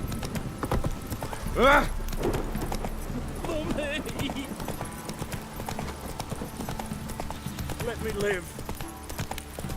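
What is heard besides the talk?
horse Roach's hooves clip-clopping in Witcher 3 video game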